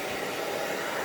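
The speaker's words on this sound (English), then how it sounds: "I'm just going to show you quickly how I smooth the hair with the hair dryer" Steady, close-up rush of a hair dryer blowing on a doll's rerooted hair, a constant broadband whoosh with no other sounds.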